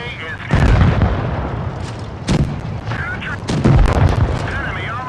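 Tank cannon shots in an armored combat video game boom heavily, with several loud blasts and rumbling impacts close together, under game voice lines and a speaking voice.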